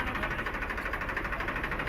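An Eicher 92 model tractor engine runs steadily at a tractor market in Malout, a close, continuous mechanical drone with a faint rhythmic pulse and no voices.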